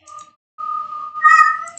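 A cat meows in two cries, a short one then a longer, rising and wavering wail, close and clear with no talk over it.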